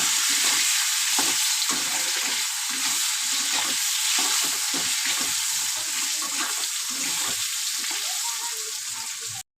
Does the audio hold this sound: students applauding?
no